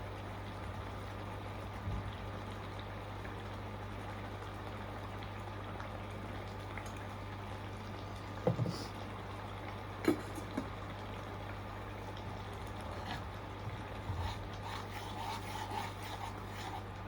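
Ginger garlic paste fries in a pan as a soft, continuous sizzle under a low steady hum, with a few light spoon clinks scattered through and no talking.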